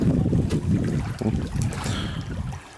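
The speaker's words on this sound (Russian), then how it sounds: "Немножко беспокойно. Есть ветер." Gusty wind buffets the microphone with a low, rough roar that swells and eases over a few seconds, beside the Umba River at the Semiverstny rapids.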